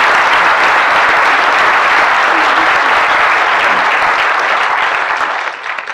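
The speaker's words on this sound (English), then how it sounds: "we will applaud him" An audience at a bird photography awards presentation applauds a silver-winning photographer, loud dense clapping from a large crowd held steadily for several seconds before fading out at the end.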